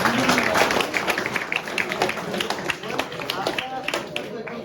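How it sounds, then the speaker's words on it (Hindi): Sustained applause from an audience honouring a student named Bhuvan on stage at a martyr's memorial day event in Bikaner, a dense steady patter of many hands lasting throughout, moderately loud. "भुवन के लिए एक बार जोरदार तालियां।"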